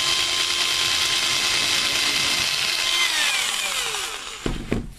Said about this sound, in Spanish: vamos realizando uno a uno todos los agujeros que llevará la placa